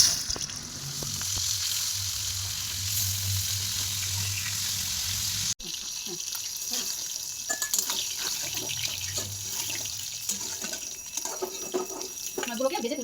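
Cumin, salt and turmeric fry in hot oil for katla fish curry, a continuous close sizzle that shifts abruptly midway, with water-like running noise and scattered clicks of stirring.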